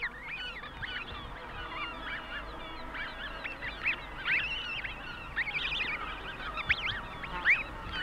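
A flock of snow geese, blue and white adults with goslings, honking out on the tundra, with many overlapping calls at moderate distance and steady calling throughout.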